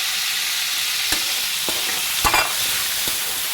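Liver sizzles steadily in a hot pan, with a few sharp pops and spatters cracking above the constant frying hiss.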